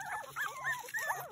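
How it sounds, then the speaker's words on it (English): Puppies whimper and yip in quick, high-pitched rising squeals, several short cries close by, with a person's voice murmuring faintly in the background. "Little polar bear puppies."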